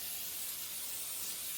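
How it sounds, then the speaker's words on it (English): Oil spray misting steadily over the tops of homemade corn tortillas being prepped as chips, a continuous close hiss with no pauses and no talking. "what I'm going to do is spray the tops of these tortillas"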